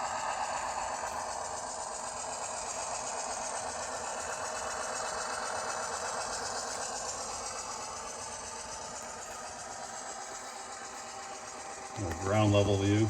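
A train locomotive idles in a steady, continuous drone throughout, with a louder burst near the end as other sounds rise over the rumble.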